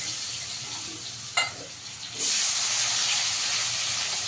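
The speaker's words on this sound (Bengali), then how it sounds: "আলুটাকে একটু লাল লাল করে ভেজে নেব" Cubed potatoes dropped into hot oil left from frying rohu fish, a brief splash then a loud continuous hiss and sizzle close by, no voices.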